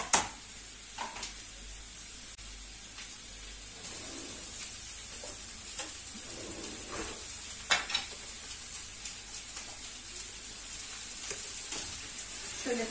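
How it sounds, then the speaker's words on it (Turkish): Peppers and then meat frying in a pan for a Nevşehir-style saç tava, with a steady soft sizzle and occasional stirring clicks and scrapes throughout, fairly quiet and without talk. "Şöyle önce dediğim gibi biberlerimizi bir kavuralım. Daha sonrasında etimizi atalım."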